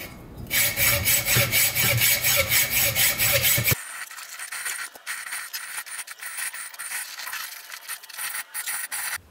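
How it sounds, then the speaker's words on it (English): A saw blade cuts through an old compressor casing with steady rhythmic rasping strokes, loud and close, that shift to a thinner scraping tone partway through. "So I think we're just gonna go straight for cutting this pretty much in half."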